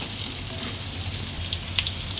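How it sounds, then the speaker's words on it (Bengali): Capsicum and green chillies stir-fry in a hot pan, a continuous close sizzle with a few sharper spits and crackles near the end, steady and fairly loud, with no talking. "এর মধ্যে আমি ক্যাপসিকাম আর কাঁচা লঙ্কা দিয়ে দেবো, আর এটাকে একটু ভালো করে নাড়াচাড়া করব যাতে ক্যাপসিকামও একটু নরম হয়।"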